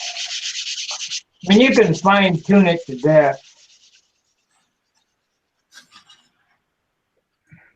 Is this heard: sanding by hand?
yes